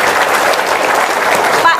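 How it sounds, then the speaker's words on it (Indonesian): Loud, close clapping from an audience at an Indonesian religious talk, a dense continuous patter of hands with crowd noise mixed in and a brief tonal sound near the end. "Yes, tepuk tangan dong."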